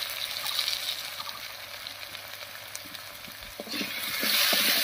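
Diced potatoes sizzle in hot oil over fried cumin and bay leaves, seasoned with salt and turmeric, with a steady close fry, occasional stirring clatter and a louder surge of sizzling near the end.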